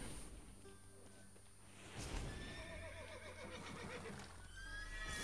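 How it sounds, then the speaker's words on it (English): Horses whinny and neigh in the Witcher 3 video game, several shrill calls over a low ambient drone, with faint hoof clip-clop beneath. The horses are spooked, and no one speaks. "it spooks the horses"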